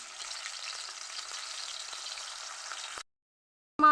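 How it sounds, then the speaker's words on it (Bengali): Koi fish, rubbed with a little salt and turmeric, sizzle steadily in hot oil in a pan, a dense close crackle that runs for about three seconds before stopping abruptly, then a brief loud clatter. "আমি মাছটা দিয়ে দিলাম।"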